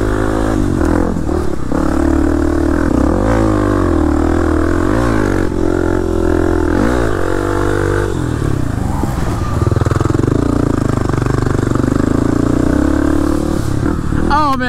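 A Kawasaki KLX300 dirt bike engine on two-way Hatfield McCoy trails, loud and close, revving up and down continuously over rough ground with rattling clatter and wind throughout, with no talk.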